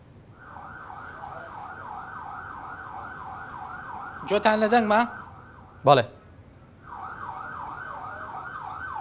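Ambulance sirens outside the forensic medicine building in Sulaymaniyah after a road accident, a repeating wailing siren that holds steadily, breaks off briefly while someone speaks, then resumes.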